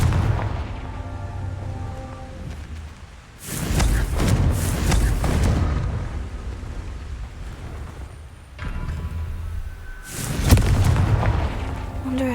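Spell blasts in a Harry Potter video game: two loud broadband booming explosions, one around the middle and another near the end, over a continuous game soundtrack with no talking.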